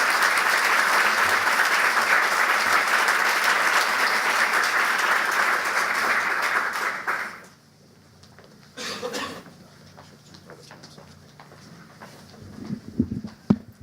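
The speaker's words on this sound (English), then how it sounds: "So one more round of applause for everybody." Audience applause in a school board of education meeting room, dense sustained clapping for about seven seconds that ends abruptly, followed by quiet room noise and a few small shuffles.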